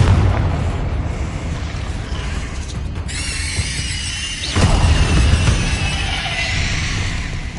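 A Confringo blasting spell in Hogwarts Legacy goes off amid game effects, a squealing whoosh followed by a booming impact and lingering rumble and crackle, with no talking.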